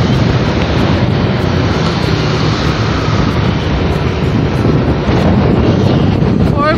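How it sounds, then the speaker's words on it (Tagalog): Strong wind roars against the microphone while riding along the Aguinaldo highway toward Tagaytay, a loud, steady, buffeting rush that fills the whole stretch with no clear speech. "So windy. Grabe ang hangin."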